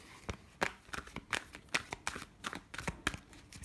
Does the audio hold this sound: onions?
no